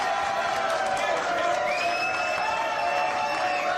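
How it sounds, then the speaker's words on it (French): A French television studio audience claps and cheers, with whoops and a busy crowd wash, while voices carry over the applause. "Applaudissements s'il vous plaît,"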